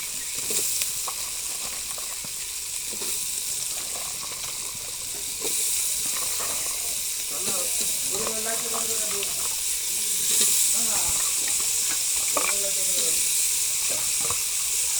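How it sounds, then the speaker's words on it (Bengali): Vegetables frying in oil-released spice paste for Bengali vegetable khichuri, giving a steady close sizzle and hiss with occasional stirring clatter and scrapes. "এখন আমি সবজিগুলো দিয়ে দেবো"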